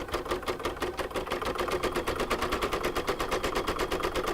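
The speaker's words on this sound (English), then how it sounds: "now this is going to stitch the decorative satin border around the wing" An embroidery sewing machine stitches a decorative satin border around a wing on a chicken coaster, its needle beating in a fast, steady mechanical rhythm, close and loud with no talking.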